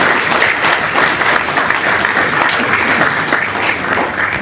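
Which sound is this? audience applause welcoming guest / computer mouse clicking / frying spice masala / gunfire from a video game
audience applause welcoming guest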